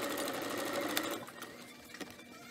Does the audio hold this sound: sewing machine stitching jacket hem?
yes